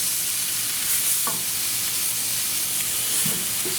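Food frying in a pan, a steady close sizzle and hiss with a few faint clinks of stirring and no talk.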